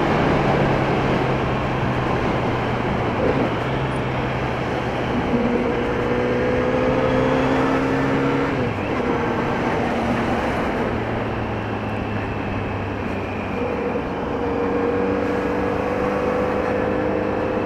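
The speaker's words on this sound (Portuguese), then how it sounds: "Vem muito caminhão de lá." Heavy trucks roll past on a busy highway near a Kawasaki Z900RS motorcycle, a steady loud drone of engines and tire roar with low tonal hums rising and fading as vehicles pass.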